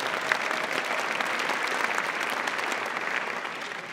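Opening-night audience at a Wisconsin film festival applauding: dense, sustained clapping from a large crowd, steady and fairly loud for the whole stretch, easing off slightly at the end.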